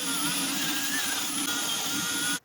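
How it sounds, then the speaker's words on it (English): A wire brush spins on a power drill to clean brake line threads on a 2-door Tahoe, making a steady, close, loud whirring grind that runs for about two seconds and then stops abruptly. "with a wire brush on my drill"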